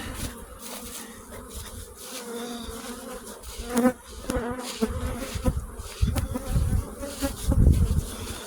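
Honeybees hum around pallet-mounted beehives in a shared apiary, a continuous buzzing swarm with louder passes and bumps near the end, and no talk.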